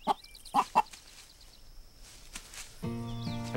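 Hens on a backyard laying flock give a few short, close clucks early on, followed by quieter rustling and then a steady tonal sound near the end.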